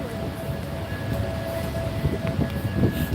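Commuter train riding at night with a steady rumbling roar, rattling wheels and a faint whine, close and continuous throughout.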